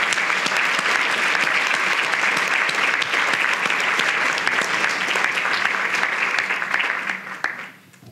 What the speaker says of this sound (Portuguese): Pediria uma salva de palmas a essa diretoria.